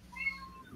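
A pet cat indoors gives a single drawn-out meow, fairly quiet and close, rising and then tapering off against a hushed room with no speech.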